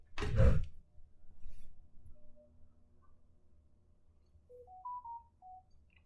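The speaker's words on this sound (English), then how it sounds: "My phone and everything going off." Phone alerts going off: a short run of rising electronic notification tones, clear and moderately loud, following a loud thump at the start, with quiet background noise.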